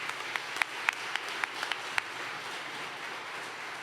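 Scattered applause and a few sharp whistles from an audience at a Navy graduation ceremony, moderately distant and thinning out as it goes on.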